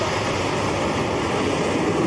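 Rocket Lab rocket lifting off with the QPS-SAR-9 radar imaging satellite, heard as a loud, steady broadband roar that stays dense and constant throughout.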